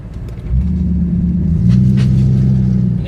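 A classic Lincoln Continental Mk III American car driving on UK roads, its engine giving a deep, loud, steady low rumble from inside, with a slight swell in intensity partway through.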